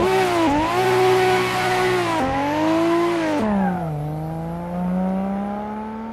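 A Nissan Skyline R32 engine drones loudly in the racing game Assetto Corsa, steady high revs dipping briefly at a few gear shifts and then settling into a lower sustained pull, close and alone.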